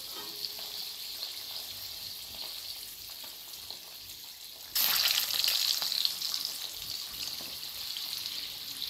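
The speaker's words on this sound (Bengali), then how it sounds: "আমি ডিমটাকে ভেজে তুলে নেব।" Eggs frying in hot oil in a home kitchen, a continuous crackling sizzle that suddenly grows louder and busier about halfway as more egg hits the oil, with no talk.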